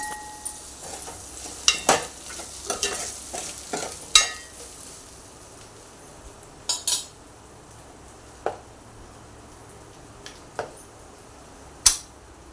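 Drumsticks are stirred into egg masala in a frying pan, with a quiet sizzle underneath and sharp, scattered spatula scrapes and clinks against the pan at irregular intervals.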